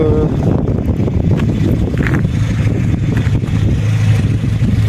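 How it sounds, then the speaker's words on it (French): Gusty wind buffets the microphone with a constant low rumble, and a voice speaks in the background. "Il y a du vent, ça va peut-être souffler un petit peu dans dans la vidéo"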